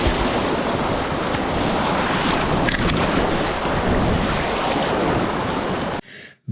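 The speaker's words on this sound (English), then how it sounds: "This is that little waterfall thing that you see before Beaver Slide on River Left." Small river waterfall before a rapid on a high-water river, a loud, continuous rushing and churning of water with wind buffeting the microphone, cutting off abruptly near the end.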